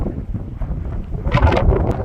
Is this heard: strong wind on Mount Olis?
yes